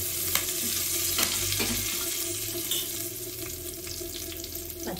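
Curry leaves crackling in hot tempering oil for an Andhra-style arbi and bottle gourd pulusu, a loud, close, steady sizzle with scattered sharp pops and no voices.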